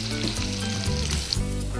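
Fish pieces frying in hot oil in a pan, a dense close crackling sizzle with a low bubbling rumble, continuous over a short stretch and no voices.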